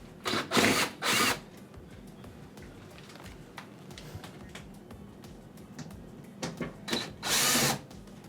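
A power drill backs out Phillips screws from the door molding of a Whirlpool oven, several short loud whirring bursts close by with quiet handling between them.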